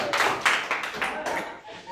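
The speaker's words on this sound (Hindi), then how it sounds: "ताली मार दो इस बात पे।" A group claps in a quick run of distinct, fairly loud hand claps, about six or seven in two seconds, during a Hindi-language class 10 chemistry lesson, with voices mixed in.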